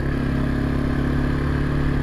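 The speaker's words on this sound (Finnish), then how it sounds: "Tosi tasaisesti käyttäytyy moottori." A carbureted four-stroke motorcycle engine runs smoothly on a cold ride. Its steady, even hum and whir stay close and constant with no one speaking.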